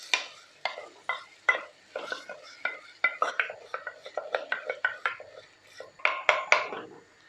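Spoon stirring chopped onion, tomato and green chilies into chana daal in a pot, a steady run of close scraping and clinking strokes with a few brief pauses, no talking.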